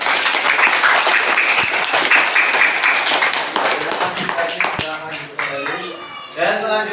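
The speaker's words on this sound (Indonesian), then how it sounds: "Kita beri tepuk tangan untuk kelompok Blimbing." Clapping from an audience for a presenting group in a classroom-style session, brisk and full at first, then thinning out as people begin talking near the end.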